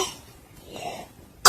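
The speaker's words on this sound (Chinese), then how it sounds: "孩子咳嗽，快来帮他听听" A child's cough: a short, loud, harsh burst near the end, preceded by faint breathy throat sounds, with no talking.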